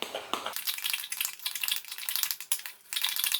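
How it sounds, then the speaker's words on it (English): A spoon stirs a powdery food mixture quickly in a bowl before microwaving, a fast, continuous scraping and clinking with brief pauses and no talking. "you're gonna stir quite quick just so it gets mixes in pretty nicely"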